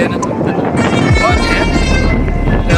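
Loud, blustery wind buffets the microphone in a continuous roar on a seashore at Madhavpur, Gujarat, with a voice faintly speaking underneath.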